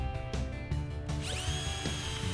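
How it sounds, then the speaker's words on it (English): Power drill boring pilot holes into oak sleepers for fixings, a steady close whine with a dense mechanical grind running throughout. "then pilot drilling the holes for the fixings"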